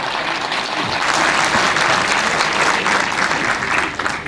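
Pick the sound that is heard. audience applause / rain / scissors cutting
audience applause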